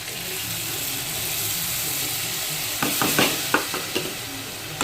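Tomato paste fries with a steady, close sizzle in a pan over low heat after browned onion paste, and a few clacking spoon strokes stir it near the end.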